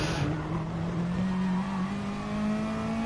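A Group 3 race car braking into a corner at Mount Panorama Motor Racing Circuit, its engine note steady and loud with a sustained tonal drone and faint tyre noise, no talk over it.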